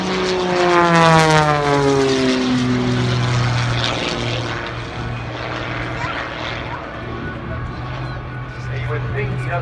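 Aerobatic propeller airplane at an air show, its engine pulled back in power: a loud, falling propeller drone that eases down to a lower steady hum, heard alongside a commentator's voice.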